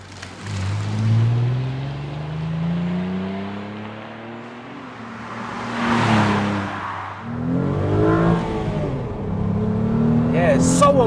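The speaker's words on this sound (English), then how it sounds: "You can really hear the air being sucked in through the side." Inside the cabin of a Renault Clio V6, the mid-mounted engine drones and swells as it accelerates, its pitch climbing through gears with an intake rush, while people talk over it.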